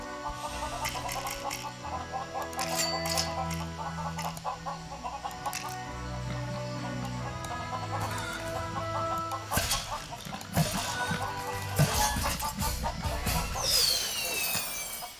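Chickens in Lego Worlds cluck repeatedly over a steady backdrop of game music, with a brief rustle and a louder burst near the end.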